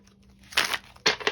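Brand-new tarot cards being shuffled, giving two short bursts of papery riffling and crinkling, close and fairly quiet, with no talking.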